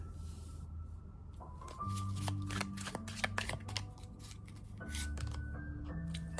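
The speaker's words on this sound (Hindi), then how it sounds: "हम एक कार्ड लेंगे, रेंडमली कार्ड निकालते हैं।" Tarot cards are shuffled by hand in a series of quick riffling and sliding bursts, close and fairly soft, over a faint background hum and low music.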